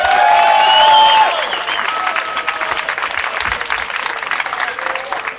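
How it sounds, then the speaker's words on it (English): Outdoor rally crowd at a No Coal in Oakland protest applauding with whistles and cheers, loudest at the start, then settling into steady clapping that continues at a lower level. "Let's give a big hand of applause for him."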